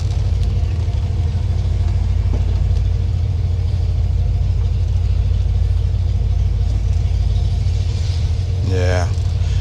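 A 6.0 LS V8 in a Yukon Denali fitted with an RV cam, driving along with a steady low rumble and drone that holds throughout, loud and close from inside the cabin, with faint voices in the background.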